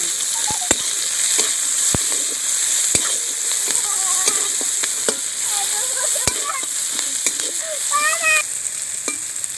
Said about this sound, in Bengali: পেঁয়াজটা আমি হালকা করে ভেজে নিয়েছি